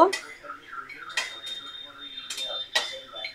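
Fried lentil dumplings are lifted into a pot, producing several sharp clinks and scrapes of utensils on cookware at irregular intervals, close by and fairly crisp.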